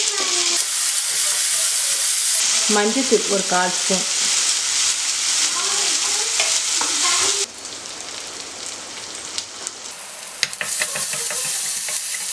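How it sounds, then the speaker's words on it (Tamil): Onions and tomatoes sizzle and fry steadily in a pan for a Tamil horse gram curry, a loud continuous crackle with occasional stirring, and a voice speaks briefly over it. "இது கொஞ்சம் வதங்கட்டும்."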